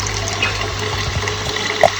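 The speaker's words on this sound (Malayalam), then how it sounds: "നമുക്ക് കുറച്ച് വെള്ളം ഒഴിക്കാം." Water runs in a steady, continuous stream, poured into a cooking pot while chicken soup is made, sounding close and moderately loud with a faint splash near the end.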